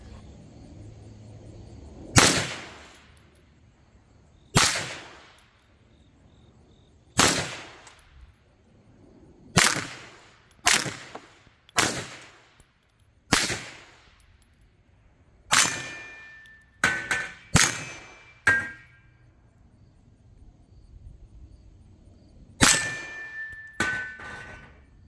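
Sharp individual rifle shots from a Bear Creek Arsenal 20-inch stainless .22 WMR upper, about fifteen cracks spaced irregularly, some in quick bursts, each with a short ringing tail, outdoors with no talking.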